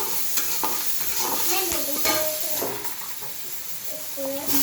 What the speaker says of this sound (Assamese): আলু দালিখিনি অলপমান ভাজি লওঁ।